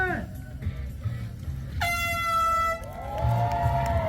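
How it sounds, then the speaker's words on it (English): A loud, sustained air horn blast sounds for about a second, then a second long blast follows, over a low background murmur. "And then you'll hear the air horn."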